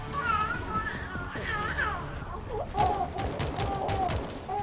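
Gunfire in the zombie shooter World War Z, a burst of sharp shots with rapid broadband cracks clustering in the second half, mixed with game effects and a player talking over the action.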